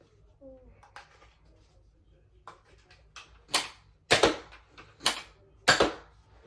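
A Nerf Elite 2.0 Trio blaster firing foam darts from its barrels gives several sharp, close pops, spaced about a second apart and strongest toward the end.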